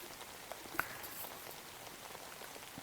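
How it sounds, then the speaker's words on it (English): Gentle May rain patters softly in a garden, scattered light drops tapping on leaves or a canopy, faint and close, with one slightly sharper drip standing out. "The sound of the gentle drops of rain."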